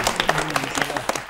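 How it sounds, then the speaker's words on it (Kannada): Applause from a studio audience on a Kannada film quiz show, a brief burst of many hands clapping at close range, with the host's voice faintly underneath. "ಅವರ ಬುರುಡೆಗಳಿಗೆ ಬರಲಿ ಜೋರಾದ ಚಪ್ಪಾಳೆ"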